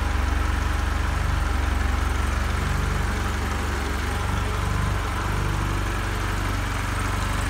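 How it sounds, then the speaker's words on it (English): BMW 2002 engine runs on a test stand at a low, steady idle around 650 rpm, a constant even rumble with a faint rhythmic pulse, close and continuous with no voices. "It's idling at 650 right now."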